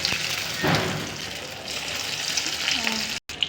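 Eggs dropped into hot oil in a wok already seasoned with salt and turmeric, giving a steady close sizzle and bubbling hiss with a brief surge as they go in, then a short cut to silence near the end.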